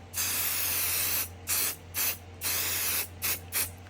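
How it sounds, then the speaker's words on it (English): Quilting basting spray adhesive hisses onto wood in several bursts, long steady sprays followed by shorter quick puffs, loud and close with a low hum underneath. "And then you're just gonna lightly spray the wood."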